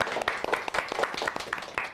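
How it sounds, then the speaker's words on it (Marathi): Studio audience applause on a Zee Yuva TV game show: a steady patter of many hands clapping for about two seconds, moderately loud and close. "टाळ्या."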